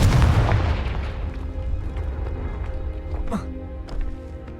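A Confringo fire spell explodes in the video game Hogwarts Legacy, a loud booming blast at the start that rumbles and fades, followed by a few sharper impacts and game effects.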